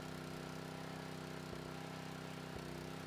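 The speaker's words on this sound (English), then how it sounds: "start the pump as you would start a lawnmower, with the delivery open to allow the air in the suction hose to escape" Portable water pump's small petrol engine, started like a lawnmower, running steadily at a constant idle-like drone with two brief thumps, close and continuous throughout.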